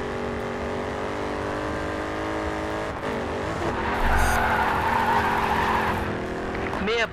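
Car drifting in the racing video game Grid 2, with a steady engine drone and tire squeal rising midway, continuous and close, under a voice.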